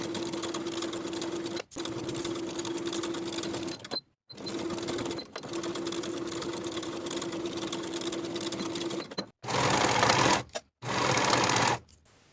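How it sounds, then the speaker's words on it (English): An electric sewing machine stitching the shoulder seams of a dress, a steady close whirring hum in long runs broken by short stops, then two louder bursts near the end. "Sew the shoulders with a 5/8 inch seam allowance and finish the raw edges together"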